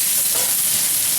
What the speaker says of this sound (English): That's exactly what I'm looking for right there. A nice sear